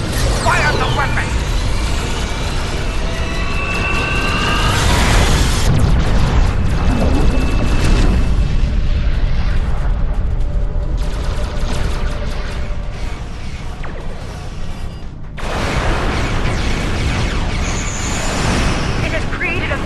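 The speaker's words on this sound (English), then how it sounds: "Fire the weapon!" Weapon fire and explosions in the Star Trek Online space game, heavy booming blasts and rumbling impacts filling a dense, loud battle soundscape with sci-fi mechanical whooshes.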